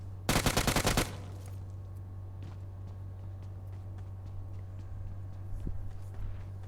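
A rapid burst of automatic gunfire in the video game PUBG Mobile rattles for about a second, then a faint background hum remains with a few soft distant shots.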